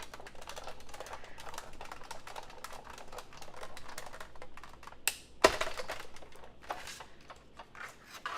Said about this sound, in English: So get this on my die cut machine, run this through.